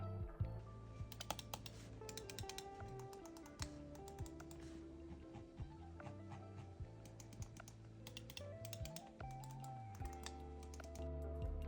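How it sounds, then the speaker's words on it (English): Crisp, rapid clicks from the buttons of a Razer Viper V3 Pro mouse, close and clear, come in dense irregular bursts with brief pauses throughout. "I'll drop a quick sound test for you to check them out"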